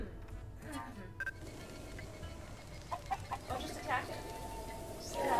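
A cucco, the chicken of Zelda: Breath of the Wild, gives several short clucks over a steady game background, with brief chirpy calls scattered through and no one talking.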